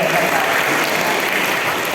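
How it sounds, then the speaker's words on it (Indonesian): Applause from a seminar audience at a National Teachers' Day education event, steady and loud clapping that fills the whole stretch without a break. "Tepuk tangan dong untuk beliau ya."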